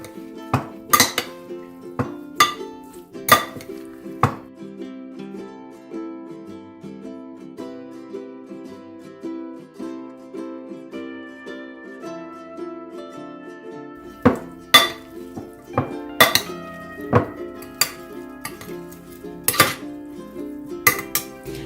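Spicy soya-chunk choila mixed in a bowl, with bursts of metal spoon clinks and scrapes against the dish in irregular clusters separated by quiet pauses, close and crisp, no talking.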